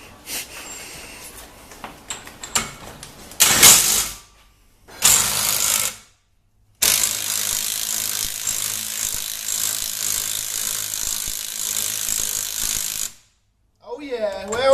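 Bolts being tightened on an R33 drift car with an LS1 engine: bursts of rapid ratcheting clicks, loud and close, with a long continuous run in the middle and short pauses between.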